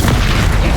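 A Confringo fire spell blasts in Hogwarts Legacy, a loud, dense booming burst that fills the whole moment with heavy low rumble and explosive crackle, no voices over it.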